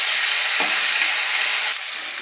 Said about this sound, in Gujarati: અને બધું મિક્સ કરી લેશું।